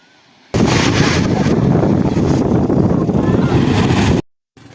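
A hired boat crossing to the far side of an island roars with a loud, continuous engine and wind rush, starting abruptly and cutting off sharply near the end.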